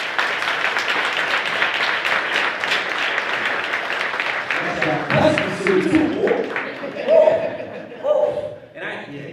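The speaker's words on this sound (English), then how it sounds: "let's clap it up for Desmond Scott" Audience applause from a crowd at a live 100th-episode show, steady clapping that fades after a few seconds as scattered voices, chuckles and talk come through.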